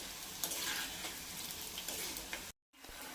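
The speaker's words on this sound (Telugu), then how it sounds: "ఇదిగోండి, ఇలా గోల్డెన్ బ్రౌన్ కలర్ వచ్చేంత వరకు ఫ్రై చేసుకోవాలి" Wheat flour and sugar biscuits deep-frying in hot oil give a steady, bright sizzle with occasional stirring, close and fairly quiet, cutting briefly to silence near the end.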